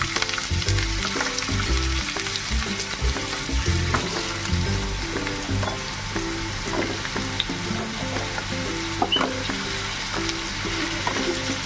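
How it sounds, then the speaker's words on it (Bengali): Potatoes frying with garlic and green chili in a pan give a steady, close sizzle, with scattered stirring clinks and scrapes over the top; no one speaks. "রসুনগুলো হালকা একটু ভাজা ভাজা করে নিয়ে এবার আমি আলুগুলো দিয়ে দেব।"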